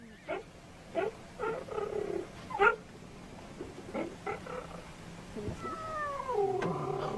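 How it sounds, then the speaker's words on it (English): A cheetah hisses and growls in close range, with several short raspy hisses and snarls spaced through the clip, followed by higher whining, meow-like cries near the end. "He's hissing at me."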